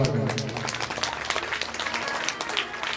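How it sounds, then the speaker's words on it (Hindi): A crowd at a Shrimad Bhagavat Saptah religious discourse breaks into loud, sustained applause, a dense wash of many hands clapping together that fills the whole moment. "एक बार जोरदार ताली की सेवा करें"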